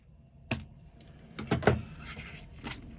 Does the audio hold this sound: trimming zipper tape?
yes